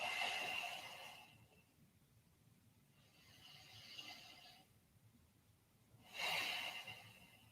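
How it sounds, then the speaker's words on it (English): Slow, deep breathing during a rehab yoga stretch, three soft breaths with long airy exhales, close and faint, with no talking. "5 deep breaths."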